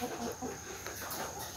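Caged layer hens cluck softly in a short, fairly quiet burst of overlapping calls against a steady background hum.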